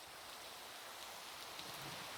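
Steady rain pours down in a video game running a particle rain mod, driven diagonally by strong wind, forming a constant even hiss with no distinct drops or talk.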